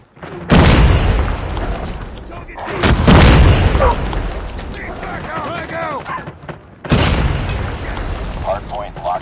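Grenade explosions in the shooter Call of Duty Mobile, three loud, deep booms spaced a few seconds apart, each rumbling out, with voices and game chatter between the blasts.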